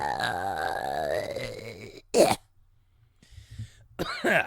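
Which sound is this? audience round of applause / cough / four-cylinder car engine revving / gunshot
cough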